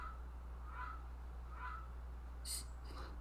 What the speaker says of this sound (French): c'est mon horloge qui me dit qu'il est 17h